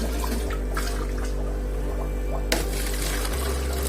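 Water treated with chlorine remover poured steadily, about a litre, a continuous splashing flow with a low mechanical hum underneath and a sharper splash partway through.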